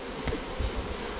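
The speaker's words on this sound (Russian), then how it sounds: "Их пчел надо вот так стряхивать." Honeybees buzz in a close, steady drone as they are shaken off a hive frame, with a brief thump partway through and no talking.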